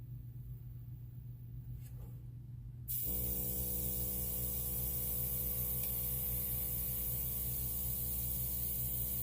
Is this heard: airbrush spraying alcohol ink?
yes